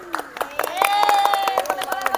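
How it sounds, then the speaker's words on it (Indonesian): A class applauds a student for her top score, sharp hand claps in an uneven, rapid rhythm, close and fairly loud, while a voice cheers over the middle of the clapping. "Tepuk tangan dulu untuk Mona."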